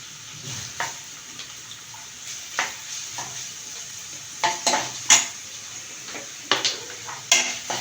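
Chopped onions sauté over high heat with a quiet sizzle, interrupted by repeated sharp clanks and scrapes of a spoon against the pan as they are stirred.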